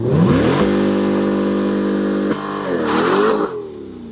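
A 2020 Corvette spinning its wheels revs hard in a loud, steady engine whine, broken by an abrupt jolt partway through, then surges again before easing off.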